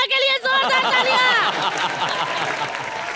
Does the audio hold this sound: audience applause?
yes